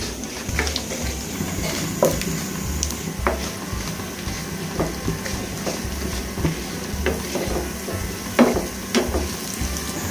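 Dry red chillies, panch phoron and nigella seeds crackle in hot oil for a vegetable labra tempering, a low steady sizzle broken by occasional sharp pops and spoon taps on the pan.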